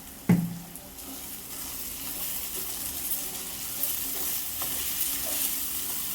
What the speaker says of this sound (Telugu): వేసి బాగా మిక్స్ చేస్తున్నానండి